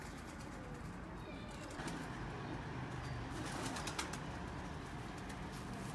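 Sialkoti pigeons cooing in a loft setting, soft low murmuring coos over steady background noise, fairly faint and continuous, with a few sharper bird sounds near the end.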